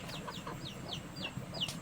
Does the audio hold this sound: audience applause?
no